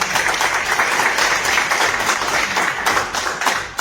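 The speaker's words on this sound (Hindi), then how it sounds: "एक बार आप लोगों के जोरदार ताली।" Loud, vigorous applause from the audience at an election meeting, dense clapping with a few sharper taps and thumps, close and continuous throughout.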